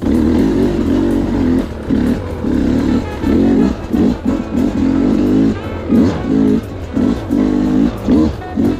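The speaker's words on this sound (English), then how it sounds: "I'm chopping the throttle and pulling the clutch in at the same time" A 2025 Sherco SE300 Factory two-stroke dirt bike engine with the throttle chopped and clutch pulled in, giving loud close-up rough rhythmic bursts of engine noise that rise and fall unevenly throughout.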